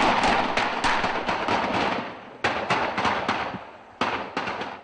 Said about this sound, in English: Then, more gunfire.